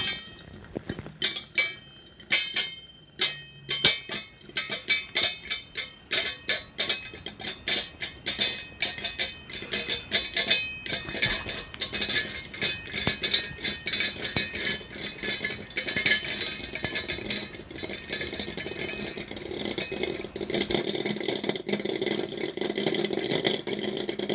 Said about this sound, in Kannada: ನೋಡಿದ್ರಲ್ಲ, ಹಿಂಗೆ ಚಟಪಟ ಅಂತ ಸಿಡಿಸ್ಕೊಂಬಿಡ್ಬೇಕು